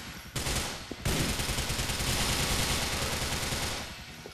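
Rapid automatic gunfire in GTA IV, dense bursts of shots cracking loudly and almost continuously after a brief opening burst.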